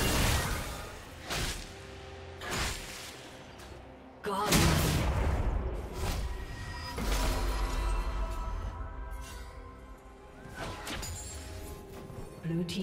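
A turret being destroyed in League of Legends, with a heavy booming impact and crashing debris among repeated blasts and whooshes of ongoing combat, loud and close.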